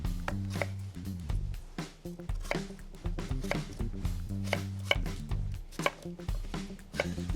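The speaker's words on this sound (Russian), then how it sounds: "берем 5-6 средних картофелин и нарезаем на кубик" A knife chops potatoes into cubes steadily on a cutting board, a quick series of sharp knocks with brief pauses between bursts, close and fairly quiet.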